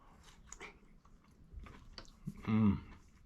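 A crunchy Camparibear tomato is bitten and chewed up close, with a few soft wet chews followed by a louder crunching bite near the end.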